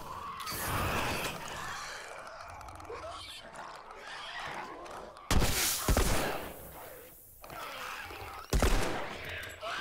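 Gunfire in The Last of Us Remastered on PS5, heard as two sharp, loud shots a few seconds apart, with scattered game noise and some voice-like sound between them.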